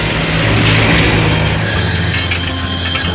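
Cutting into a Honda 125 motorcycle silencer: a loud, continuous grinding and scraping of metal with a low droning hum beneath, close and unbroken.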